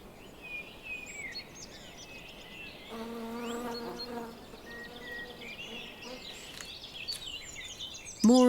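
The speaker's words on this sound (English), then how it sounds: "Bumblebees and honeybees collect protein-rich pollen too." Bumblebees and honeybees buzz faintly around spring blossoms while gathering pollen, with a steadier, louder harmonic drone from about three to five seconds, scattered bird chirps over a quiet outdoor background, and a sudden louder sound at the very end.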